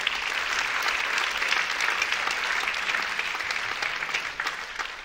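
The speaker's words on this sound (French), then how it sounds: "On peut applaudir très fort." At an honorary citizenship ceremony in a French town hall setting, a large audience gives a loud, sustained wash of applause that stays full and even for the whole stretch.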